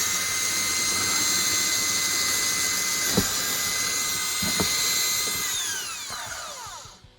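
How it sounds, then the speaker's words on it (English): A power drill with a fresh bit whines steadily at high pitch, boring through a shed wall with polystyrene insulation, then spins down as it finishes near the end. "that drill bit was blunt. I've put a new one in."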